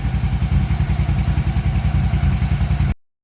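A motorcycle engine with an exhaust leak idles close by with a rapid, uneven chuffing putter, loud and rhythmic, before cutting off abruptly near the end.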